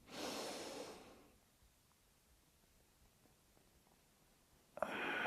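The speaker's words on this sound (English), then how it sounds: "And breathing in again." A deep breath drawn in during a taiji practice session, a close, airy inhalation at the start, then quiet, then a second breath rushing in at the end.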